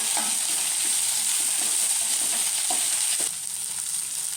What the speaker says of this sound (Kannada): 1 ನಿಮಿಷ ಫ್ರೈ ಮಾಡೋಣ. ಈರುಳ್ಳಿ ಬೆಂದಿರೋದಕ್ಕೆ ನಾವು ಹುರ್ಕೊಂಡಿದ್ವಲ್ಲ ಆ ಬೆಂಡೆಕಾಯಿನ ಹಾಕೋಣ.